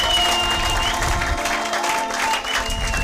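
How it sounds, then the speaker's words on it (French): A church congregation at a French-language service applauds in a steady, dense wash of clapping, with a few voices and ringing tones mixed in throughout. "Acclamez pour la gloire d'éternel notre Dieu"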